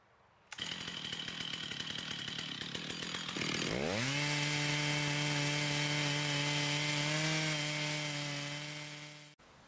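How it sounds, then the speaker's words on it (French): A chainsaw mill saws through a log with a freshly retensioned chain. After a half-second of quiet the engine snarls loudly, then rises into a steady high-pitched whine as the chain bites into the wood. It cuts off abruptly near the end. "je peux commencer à scier, et surtout, comme j'ai retendu ma chaîne, je vais vérifier à la coupe si elle n'est pas trop tendue"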